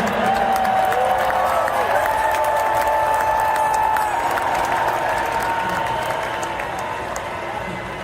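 A large crowd cheers and applauds at an NFL Draft event for the Detroit Lions pick, a loud sustained roar with whistles and clapping that slowly fades over several seconds.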